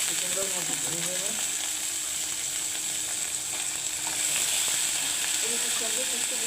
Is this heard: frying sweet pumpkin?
yes